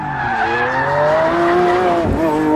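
A 740 hp Lamborghini Aventador S on a race track in Spain, its engine loud and close, the pitch rising through the revs with a quick gear shift and a brief tire squeal.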